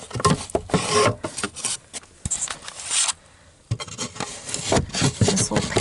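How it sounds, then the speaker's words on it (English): An interior trim panel on a 1990 Nissan 300ZX slides out with close, scraping plastic rubs and rasping friction, broken by brief clicks and a short pause midway. "panel slides out."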